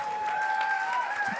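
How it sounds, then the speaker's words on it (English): An audience at a live fundraising event gives a steady, dense round of applause that fills the room evenly from start to finish, with no pauses or single claps standing out. "I want to hear a roaring round of applause"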